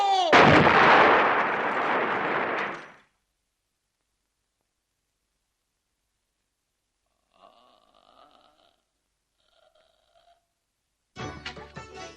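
A loud, harsh bomb blast bursts out and rumbles for a few seconds, then silence with faint tonal beeps, and another sharp burst at the end.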